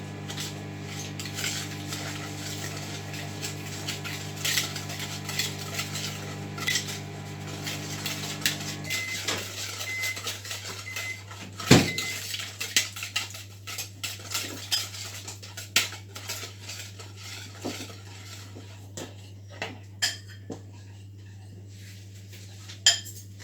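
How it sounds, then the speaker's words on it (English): A whisk or spoon clinks and scrapes against a bowl while brownie batter is mixed, a steady run of small metallic taps over a low constant hum, with no talking. "And whisk."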